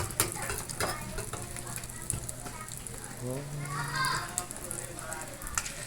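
Egg frying in hot cooking oil in a small pan, a steady close sizzle with crackles and light stirring or utensil clicks, heard alongside intermittent talking.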